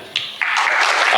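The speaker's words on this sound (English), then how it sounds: "Matt, round of applause for Matt." Conference audience bursts into applause for a guest at a digital marketing event, a short loud clapping swell that builds quickly and holds.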